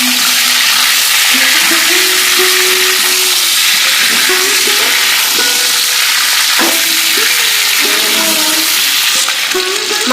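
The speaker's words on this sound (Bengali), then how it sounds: "কড়াইয়ের তেল হিট হয়ে গেছে। এবার এর মধ্যে মাংসগুলো ভেজে নেব।" Chicken pieces fry in hot oil in a wok, giving a loud, continuous close sizzle and hiss. Scraping stirs and the clatter of a utensil break through now and then.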